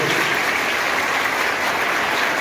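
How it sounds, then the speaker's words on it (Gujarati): Audience applause welcoming dignitaries onto the stage at a state mathematics festival held at a school in Junagadh, a dense, even burst of many hands clapping from start to finish. "બધા જ પોતાના સ્થાનથી તાળીઓથી બધા મહાનુભાવોનું આપણે"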